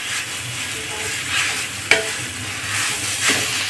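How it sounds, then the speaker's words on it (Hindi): Boiled, mashed potatoes being stirred into a pan over low heat, a continuous close hiss and soft scraping with one sharp utensil knock partway through, no voices. "आलू को हम डाल देंगे इसी में। डाल के अच्छे से इसको मिला लेंगे।"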